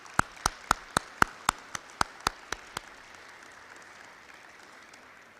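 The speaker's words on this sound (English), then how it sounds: "a round of applause, please" Applause for inductees at a gala comes as about eleven crisp, evenly spaced claps that ring out in a steady rhythm, then stop, leaving a quiet room.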